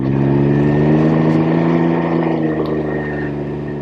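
A Can-Am Ryker Rally three-wheeler's engine drones loud and steady as throttle is given, a close, continuous low harmonic hum that holds level for several seconds with no talk over it.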